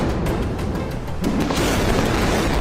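A missile explosion heard in war footage from Gaza, a loud, continuous roaring boom that fills the whole clip with dense rumbling and no break.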